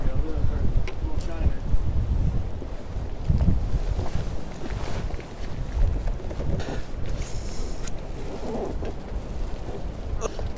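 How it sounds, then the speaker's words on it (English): Strong gusting wind on the New River during a smallmouth bass fishing trip buffets the microphone in uneven surges, with a person talking over the roar. "this wind is crazy. We got gusts up to 35 miles per hour"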